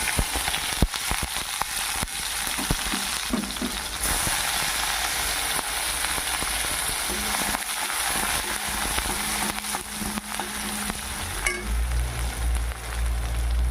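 Onions crackle and sizzle in hot oil in a kadai, with clicking, scraping utensil sounds over the frying and a low hum near the end.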